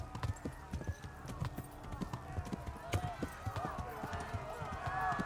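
Steady clip-clop of horse hooves in a quick trotting rhythm in the video game Kingdom Come: Deliverance, with game music and a voice talking over it.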